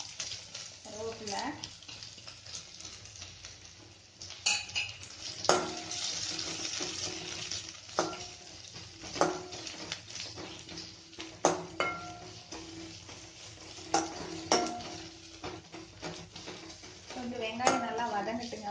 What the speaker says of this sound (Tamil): கடுகு பொரிஞ்சிருச்சு, நம்ம ஆனியன் போட்டுருவோம்.